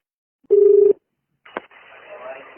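A single steady telephone tone sounds briefly for a phone call, followed after a short pause by a click and a faint line hiss.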